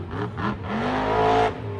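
A monster truck engine at full throttle during a monster truck show roars and revs hard in rising, surging bursts, close and loud, with no talk.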